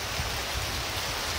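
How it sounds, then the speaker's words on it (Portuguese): Steady rain falls over a town in Macaúbas, Bahia, on a stormy Saturday evening, a dense continuous hiss with no voices. "chuva caindo na cidade"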